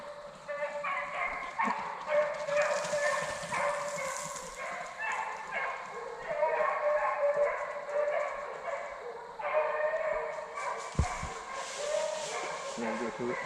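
Hunting dogs bay and yip continuously during a South Carolina deer dog drive, a chorus of overlapping barks at moderate distance, with a voice briefly heard over them.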